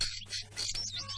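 A crow calling outdoors, a few short harsh caws in quick succession, heard alone at moderate loudness without any talk.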